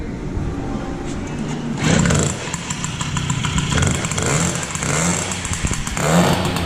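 A freshly rebuilt motorcycle engine fires up for the first time in a shop, running loud and rough with surging revs and uneven bursts, while voices speak nearby.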